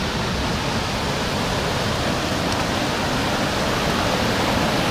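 A river flows through a mountain forest near Valemount, British Columbia, giving a steady, dense rushing wash of water that stays loud and unchanging throughout.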